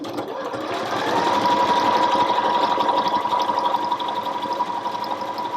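A Janome HD5050 sewing machine runs continuously while stitching a decorative asterisk stitch, giving off a loud, even motor hum with a fast rhythmic needle chatter, close and alone.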